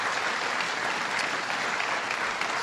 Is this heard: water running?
no